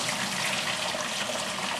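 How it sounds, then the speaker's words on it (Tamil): Steady rushing pour of water drained from boiled rice through a strainer, loud and continuous with no pauses. "இப்போ ரைஸை வந்து ஃபில்டர் பண்ணிக்கலாம்."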